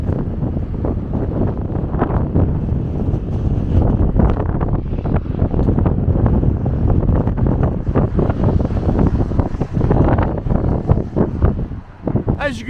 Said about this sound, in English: it's still violently windy out here